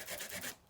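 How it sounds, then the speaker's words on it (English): A small sanding disc rubs along the edges of a vintage photo album's back cover with a brief, quiet, close scratchy rasp that fades out after about half a second. "I'm just taking this little sanding disc and just kind of trying"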